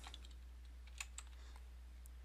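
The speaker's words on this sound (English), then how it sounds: "and then we can just start typing." Soft, quick keystrokes on a computer keyboard, irregular in rhythm with a couple of sharper taps, heard alone and close over a low steady hum.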